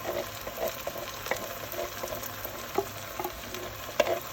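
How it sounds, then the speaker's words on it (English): Canned crushed tomatoes go into a pot of simmering onions, a soft continuous sizzle with scattered wet plops and stirring scrapes spaced irregularly across the clip, fairly quiet and close. "So now we are gonna add 1 28-ounce can of crushed tomatoes."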